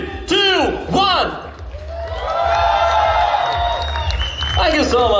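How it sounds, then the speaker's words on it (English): A live interview audience erupts in loud cheering, whoops and shouts over steady clapping. The roar swells and holds close and strong for several seconds. "Cheer the loudest. Clap the hardest."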